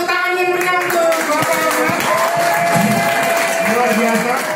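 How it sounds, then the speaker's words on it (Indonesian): Applause from an audience at a birthday celebration for a company founder, steady and fairly loud for several seconds over background music with held tones. "tepuk tangan yang meriah untuk"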